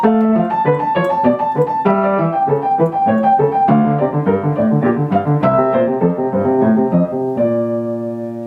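Solo piano plays a short five-measure passage, a clear melody over supporting harmonies in a steady, moderately paced rhythm, close and bright, ending on a held chord.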